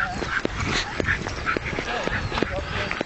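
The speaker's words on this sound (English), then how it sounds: "Couple of dogs up there." Dogs barking and yipping repeatedly in the distance, scattered sharp calls over a busy outdoor background with people talking nearby.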